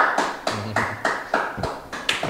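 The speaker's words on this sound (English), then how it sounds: "So by clapping, we're gonna figure out who is the winner." An audience claps to vote for the winner of a drawing contest: a regular series of loud, sharp bursts about every half second, close and steady, with no talk.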